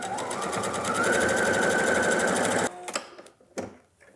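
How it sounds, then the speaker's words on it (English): Sewing machine running steadily as it stitches fabric toward a sharp corner, then stopping abruptly, followed by a few soft clicks and handling sounds as the presser foot is lifted and the fabric pivoted. "lift our foot, pivot, and continue sewing"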